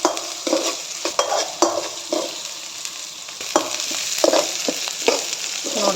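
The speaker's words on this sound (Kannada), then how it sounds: "ಇದು ಗೋಲ್ಡನ್ ಬ್ರೌನ್ ಬರೋವರೆಗೂ ಫ್ರೈ ಮಾಡಿಟ್ಕೊಳ್ಳಿ." Vegetables frying in a pan for street-style vegetable noodles, a steady sizzle under repeated stirring scrapes and light utensil knocks against the pan, close and continuous.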